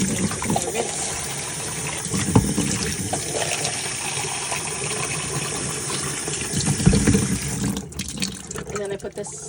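Water runs and splashes while a container is rinsed out in a sink, a steady broadband rush with a few louder sloshes, easing off near the end, with someone talking at times.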